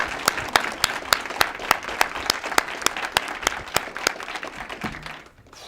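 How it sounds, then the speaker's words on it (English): Audience members at a PTA Founder's Day dinner clap in a sparse, crisp run of distinct claps that thin out and fade toward the end. "So I want to have everyone give my mom a round of applause."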